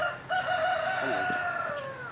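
A chicken about to be butchered squawks and crows loudly up close, with ragged rising and falling calls over a steady background hum and a few faint clucks.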